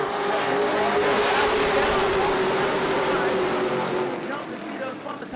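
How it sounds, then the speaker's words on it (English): Race cars at New Smyrna roar together as the field accelerates toward the green flag, a loud, dense engine wail that holds steady and then eases slightly, with commentary running over it. "Send the throttle up on that Tony Dodge American Auto pace car."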